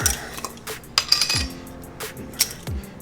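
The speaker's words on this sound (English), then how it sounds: "guess I better get my little spoons out, huh?" Small metal measuring spoons clink and rattle against each other in a kitchen as they are pulled out, giving several light, bright taps and jingles close by, with no voices.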